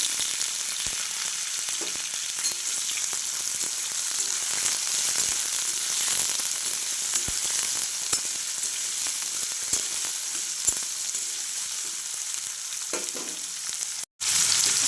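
Cut potato and pumpkin frying in a pan as they are stirred: a continuous bright sizzle with soft scraping strokes and small irregular clicks, fairly quiet and steady, ending with a brief dropout.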